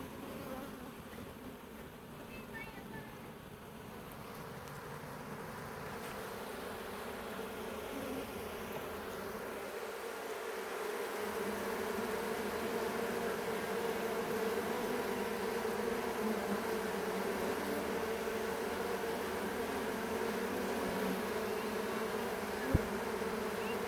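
Honey bees buzzing around a hive, a dense, steady drone of many wings up close and moderately loud, swelling slightly over time, with a single small knock near the end.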